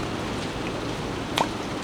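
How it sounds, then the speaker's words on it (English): Steady rain falls outside, a soft even hiss that fills the moment with no one speaking and only a brief faint click near the end. "The rain just feels so nice to listen to outside."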